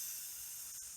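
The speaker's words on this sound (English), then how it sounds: "Caesar, give her the sizzle." A sizzling fajitas sound effect gives a bright, steady hiss that holds for about a second with a slight dip near the end, with no voices.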